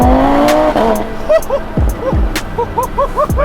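A 2018 Audi TT RS with a stage 5 big-turbo 2.5 litre five-cylinder TFSI engine tuned to 800HP revs hard and loud, with sharp rising gear pulls, tire chirps and whooshing spikes that suggest turbo blow-off.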